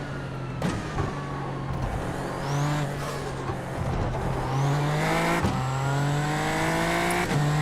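Race car in a Spa racing game held at full throttle, a loud steady engine drone climbing in pitch with brief dips at gear shifts, continuous and close with no talking.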